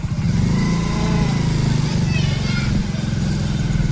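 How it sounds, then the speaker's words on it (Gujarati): A motorcycle engine runs at a steady mid-pitched drone, close and fairly loud, as the bike is ridden with a passenger on the back; a voice talks briefly over the engine noise. "કોમેન્ટ ભાઈ બાઇક ચલાવે વાર હું પાછળ બેઠી પણ બહુ બીક લાગે।"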